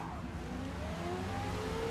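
Race cars in Forza Motorsport pile into one another at the start of a race, a steady roar of engines with a rising whine and tire noise, loud and continuous with no clear impact.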